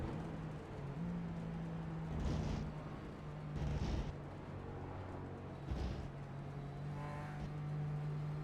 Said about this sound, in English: So you can hear that he's being very cautious with the throttle.